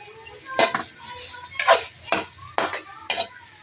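Chicken pastel being stirred in oil in a pan, five or so distinct scraping swishes of a utensil against the metal at an irregular pace, close and clear, with a faint sizzle beneath.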